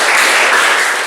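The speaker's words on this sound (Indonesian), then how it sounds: "Kasih tepuk tangan dulu." An audience in an Indonesian classroom teaching-practice session claps together in a short, dense burst of applause, loud and close, with no talk over it.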